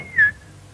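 A single short human whistle imitating a tui bird call, one bright rising-then-level note lasting a fraction of a second, close and clear over a quiet low hum.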